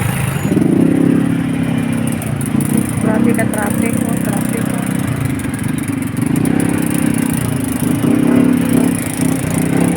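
Motorcycle engine on a ride through traffic, heard up close with swelling and easing throttle and steady wind and road noise, and a rider talking over it.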